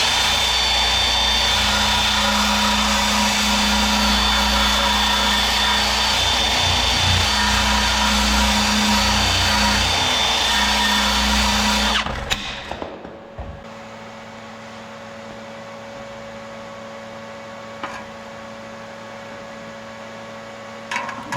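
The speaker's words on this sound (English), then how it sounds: "I'm just going to clean that up with a wire brush" A powered wire brush cleans sheet-metal tinware from an air-cooled VW engine, giving a loud, steady whirring roar for about twelve seconds before it cuts off, leaving a faint electrical hum.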